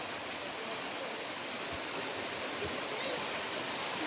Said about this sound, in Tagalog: Ayan guys, ang baha.